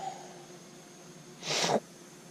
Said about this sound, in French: Pardon, je renifle, mais je suis légèrement malade.